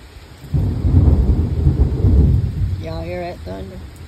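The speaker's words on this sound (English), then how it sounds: "Thunder." A deep, rolling thunder rumble swells over steady rain heard from a front porch, then fades as a voice briefly speaks.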